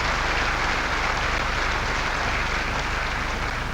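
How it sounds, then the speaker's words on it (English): Audience at the Allan Border Medal 2006 ceremony claps in a dense, sustained round of applause, even and loud from start to finish with no voices above it. "Please give Glenn and Jane a round of applause."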